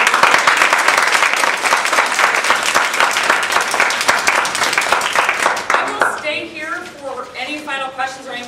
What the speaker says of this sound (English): let's give a round of applause to Paul and also to Kathy